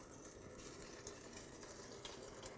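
Water trickles and splashes down through stacked seed-sprouting trays indoors, a faint continuous pouring and dripping with no voices.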